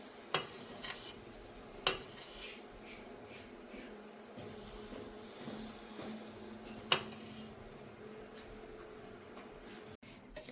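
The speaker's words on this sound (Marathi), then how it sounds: "हे तेल या मिश्रणामध्ये ऍड करून घ्यायचं आहे." Hot oil stirred into chakli flour mixture with a spoon, soft quiet scraping and mixing with a few sharp clinks of the spoon against the bowl, faint and close.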